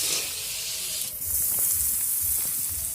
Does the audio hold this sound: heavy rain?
no